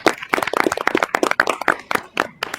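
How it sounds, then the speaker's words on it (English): A small audience at a school board meeting applauds a returning trustee, producing sparse, distinct hand claps in an irregular, close patter that tapers off near the end. "Let's give her a big round of applause."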